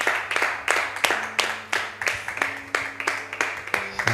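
A congregation claps in a steady, brisk rhythm, about three claps per second, close and prominent, as part of acclaiming Jesus in worship.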